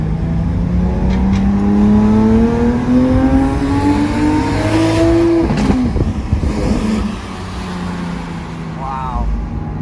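Lamborghini Aventador SVJ exhaust, a loud nearby engine climbing steadily in pitch through one long acceleration, then dropping off and passing into quieter road noise with a brief high whir near the end.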